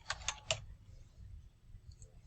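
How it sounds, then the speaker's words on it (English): A few quick keyboard clicks near the start, then quiet room tone with faint low rumble. "I'm typing something."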